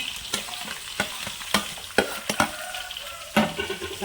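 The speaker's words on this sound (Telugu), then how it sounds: "కరివేపాకు పచ్చిమిరగాయలు ఎల్లిపాయ జీలకర్ర ఉల్లిపాయలు మొత్తంగా చక్కగా వేగనిస్తామండి" Onions, curry leaves, green chillies, garlic and cumin frying in oil, a steady sizzle punctuated by regular sharp spoon strikes and stirring scrapes against the pan, no talking.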